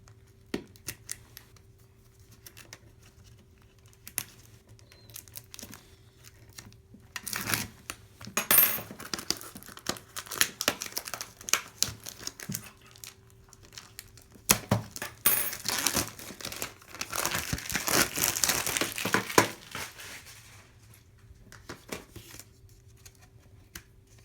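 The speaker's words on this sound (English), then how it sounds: "Start unwrapping this." Dark Souls II collector's edition box unwrapped by hand, with close crinkling plastic wrap, tearing and scattered clicks and taps that come in busy bursts over about twenty seconds, then fade to quiet handling.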